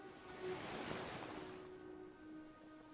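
Soft ocean waves wash in a low, breathy roar that swells and then settles back, faint and distant with a wind-like hiss and no other sounds.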